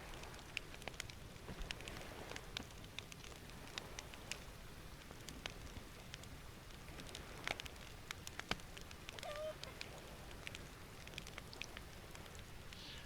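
Steady rain falling in the voxel survival video game Dead Reach, a continuous soft hiss with scattered drop ticks, faint and even throughout, with no talking.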